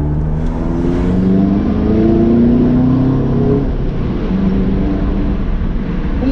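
Audi TT Cabrio with a 230 hp engine pulling hard in dynamic mode, a loud, close engine note rising steadily in pitch through the gears with a short dip at a shift, heard from inside the car without talk.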